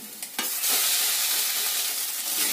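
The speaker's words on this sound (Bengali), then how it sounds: "এর মধ্যে যে আগে থেকে পাতা ব্লেন্ড করে রেখেছিলাম সেটা ওর মধ্যে দিয়ে দেব।" A blended leaf paste hits onions frying in a pan and is stirred in, producing a loud, continuous hissing sizzle after a few sharp initial scrapes, heard up close without talk.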